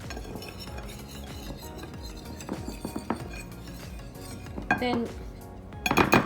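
A metal utensil clinks and scrapes against a bowl while ingredients for chicken tenders are mixed, a busy run of near, bright taps and clatters with someone speaking briefly.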